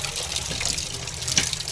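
Pomfret fish being washed under a running tap, a steady close splashing stream of water with faint clinks of handling.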